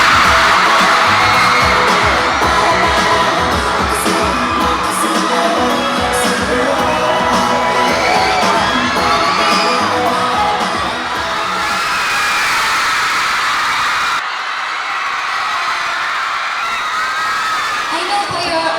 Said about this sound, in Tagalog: pag sumisigaw sila, hindi ko na naririnig yung sarili ko nagsasalita